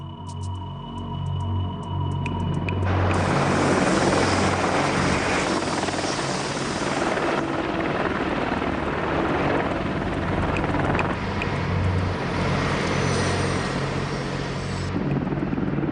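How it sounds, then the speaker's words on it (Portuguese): A Boeing AH-64A Apache attack helicopter of the US Army flies close by, its rotor throbbing loudly and steadily for the whole stretch, a dense continuous roar with a whining turbine underneath. "Esse é o helicóptero Apache AH-64A do Exército Norte-Americano"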